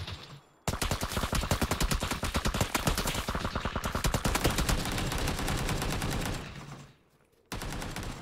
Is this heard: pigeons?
no